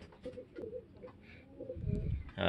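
Pigeons cooing in a loft early in the morning, with soft, low, repeated coos and some faint rustling, close by and fairly quiet.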